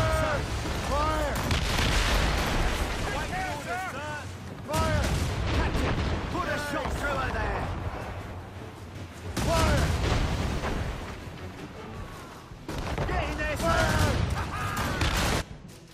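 Ship cannons fire in repeated heavy, rumbling volleys during a naval battle in the PS3 game Assassin's Creed Rogue, loud booming blasts in several waves with shouted voices and crew cries over the top.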